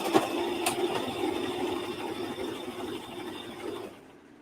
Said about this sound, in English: This machine is actually quiet, more quiet than my other sewing machine.